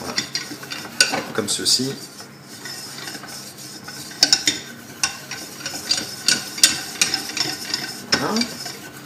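Butter and a heaping tablespoon of flour are whisked together in a pan for a croque monsieur sauce, with brisk metallic scraping and clinking that comes in uneven bursts close by and a brief voice between strokes.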